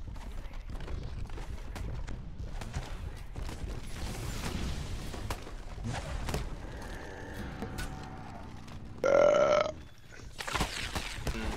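One short, loud burp stands out near the end over a busy mix of clattering game sounds and creaks.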